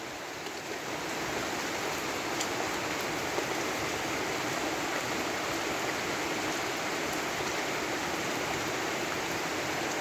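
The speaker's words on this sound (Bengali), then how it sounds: "এখন বৃষ্টির সিজন, বৃষ্টি হবে, এটাই স্বাভাবিক।" Steady rain pouring down outdoors during the rainy season, a dense continuous hiss that holds evenly at close range for the whole stretch with no voices.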